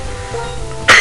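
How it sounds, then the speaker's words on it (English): A single short, loud cough bursts out near the end after quiet room tone, with no speech around it. "I'm having cough at the moment."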